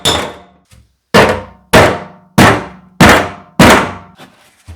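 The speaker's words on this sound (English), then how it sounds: "Alright, big brass bar. Should do it, I hope." A big brass bar hammers on a part of a 1996 Ford F150 during fuel pump and gas tank work, giving six loud, evenly spaced metallic clangs, each ringing briefly before the next.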